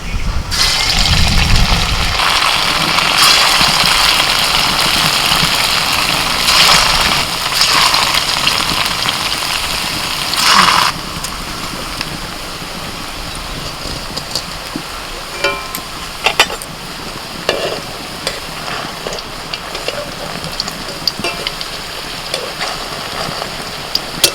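Chicken malai kofta balls are dropped one by one into very hot oil, raising a dense, steady crackling sizzle like rain that starts loud and thins to sparser pops and spatters later, close by with no talking.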